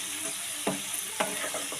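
Fried rice ingredients with ghee, cashews, raisins and capsicum being stirred in a pan, two or three short spatula scrapes over a soft continuous sizzle.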